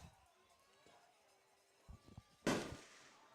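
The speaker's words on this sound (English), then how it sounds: "So a lot of fireworks tonight" Fireworks going off outside a baseball stadium during a game: a few soft distant thumps followed by one sharp loud blast, with a faint voice talking underneath.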